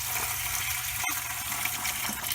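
Cold tap water gushes steadily into a container being filled to wash a 1998 Furby, a constant close, loud rush of running water with one brief break partway through.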